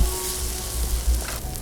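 Turmeric and chili powder sizzling as they are sautéed in hot oil for a Karnataka-style hesaru kaalu (green gram) palya, a steady, close, dense frying hiss with no talk.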